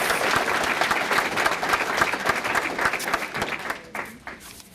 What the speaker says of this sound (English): one more round of applause for all of our Above and Beyond award recipients